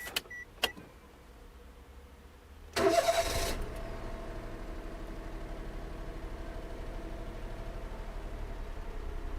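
A 2011 Daihatsu Tanto X kei car engine cranks briefly and catches, then settles into a steady idle, preceded by a couple of faint clicks.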